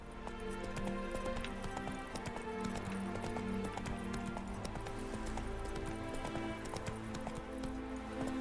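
Geralt's horse Roach trotting in The Witcher video game, rhythmic hoof clip-clops repeating steadily over a continuous musical and ambient game soundtrack.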